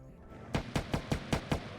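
A quick burst of six sharp gunshots in an even, rapid rhythm, loud and close, following a brief quiet start, from a video game.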